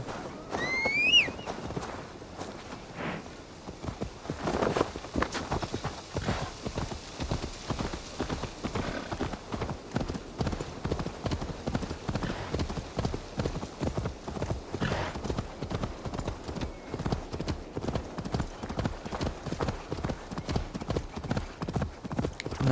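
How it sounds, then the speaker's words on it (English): Horse galloping in Assassin's Creed Valhalla, a rapid, steady stream of hoofbeats running near and fairly loud for over twenty seconds, with a brief whinny and game sounds near the start. "Nice, I should have used this horse earlier."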